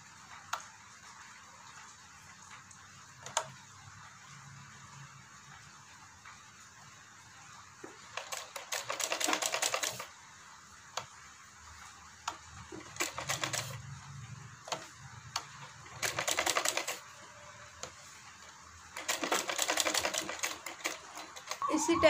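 A sewing machine stitches a salwar, running in several rapid mechanical bursts a few seconds long with quiet pauses between them, close and moderately loud, with a voice speaking during the gaps.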